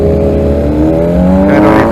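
A Honda NC700X motorcycle engine drones loudly close by while riding, its pitch climbing steadily as it revs, with a rougher burst near the end.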